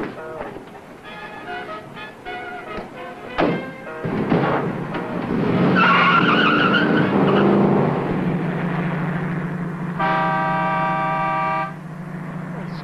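An old car starts, revs and drives off with horn toots and engine roar building then fading, with a voice speaking briefly over it.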